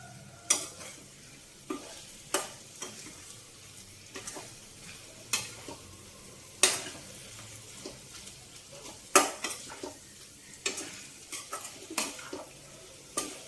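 Chicken frying in a pan for gongura chicken curry, with a soft continuous sizzle and sharp, regular scraping strokes of a spoon stirring against the pan, close and alone.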